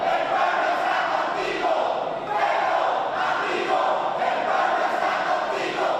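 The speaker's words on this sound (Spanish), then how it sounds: "Los 26 senadores y 41 representantes vitorearon en favor del presidente saliente." Legislators, 26 senators and 41 representatives, cheer together for the outgoing president in a large chamber, a dense, steady roar of many voices that swells and dips slightly throughout.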